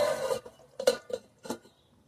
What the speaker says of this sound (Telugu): ఒక్కసేపు మూత పెడదాం